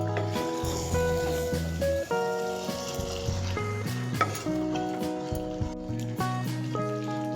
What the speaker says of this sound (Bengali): এবার রসুনটাকে ভালো করে মিশিয়ে নেব।